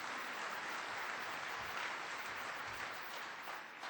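An audience at a Rotary luncheon claps for the 51 students of Seattle Public High Schools, a faint, even wash of applause heard from a distance with no talking over it.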